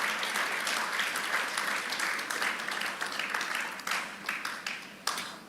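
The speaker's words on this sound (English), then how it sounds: "Please, can we give her a round of applause?" Applause from an audience at an agricultural business conference, a dense sustained round of clapping that thins toward the end, with a few louder isolated claps near the close.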